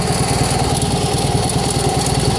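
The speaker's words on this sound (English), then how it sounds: "Now, if we were loading an aircraft, we just need to engage the clutch. That engages the hydraulics." An Air Horse aircraft tug engine runs steadily with its hydraulics engaged through the clutch, a loud, close, continuous small-engine drone with no talk.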